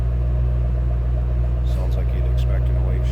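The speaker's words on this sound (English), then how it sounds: "Sounds like you'd expect in a white Shelby too." A white 2008 Ford Mustang Shelby GT500 convertible with its stock exhaust gives a steady, deep idling rumble close by, with faint voices briefly over it toward the end.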